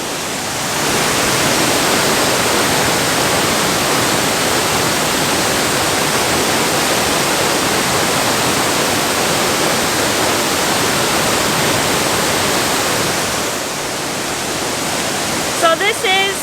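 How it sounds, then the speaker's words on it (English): A waterfall you can walk under roars as a dense, steady wash of broadband rushing water, loud and close throughout, easing slightly near the end where brief human sounds break through. "So this is definitely in my top 3 favorite waterfalls so far that we have seen."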